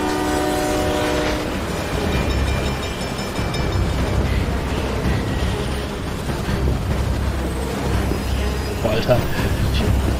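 A train in Beyond: Two Souls rumbles loudly and steadily with a dense roar, and a horn-like tone sounds near the start. A voice speaks briefly over the noise.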